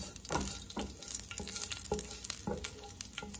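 Fenugreek and mustard seeds with chopped curry leaves fry in a couple of teaspoons of hot oil, giving a steady close sizzle broken by sharp crackles and pops that come every half second or so.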